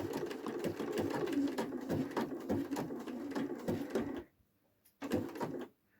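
A sewing machine stitches a quilt seam slowly, its needle ticking in a steady, close rhythm for about four seconds, pausing briefly, then running again for a short burst before stopping.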